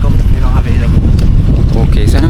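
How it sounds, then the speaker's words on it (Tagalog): Loud, steady wind rushes and buffets the microphone outdoors in Albay, Philippines, filling the short stretch with low roaring noise. "Ang lakas ng hangin, hindi ko alam kung naririnig ng camera"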